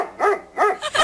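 Three short, close dog barks in quick succession, each a bright yelping bow-wow with clear pitch, loud and alone without any talk.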